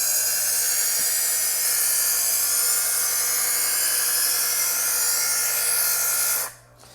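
Knife drawn through stage 1 of a Chef's Choice electric knife sharpener, a steady high grinding whine holding for several seconds before cutting off abruptly, close and alone.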